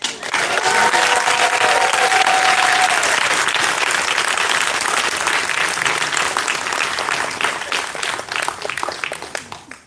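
Large audience applauds at a Florida State University graduate hooding ceremony, a full roar of clapping that swells quickly, stays loud for several seconds, then thins out toward the end.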